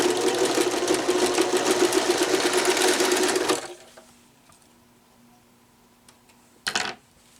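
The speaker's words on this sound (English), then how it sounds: "We sewed a straight stitch, pot holder over" A sewing machine runs a straight stitch through a towel, its fast, steady mechanical chatter loud and close for a few seconds before it stops, leaving quiet room tone and one brief knock.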